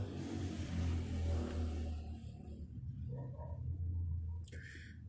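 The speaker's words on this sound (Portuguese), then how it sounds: "Deixa a moto passar." A motorcycle passes close by on the street, its engine rumbling loudly at first and then fading away, with faint clicks near the end.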